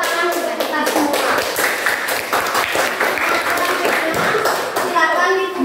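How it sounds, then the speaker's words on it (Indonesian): Audience in a classroom teacher-training session claps steadily and loudly throughout, a dense patter of many hands with children's voices faintly mixed in. "Ya, tepuk tangan untuk kita semua"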